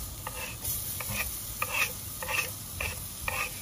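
Onion added to a pan with carne asada is stirred while frying, with rhythmic scraping strokes every half second or so over a soft steady sizzle, close and fairly quiet, with no talking.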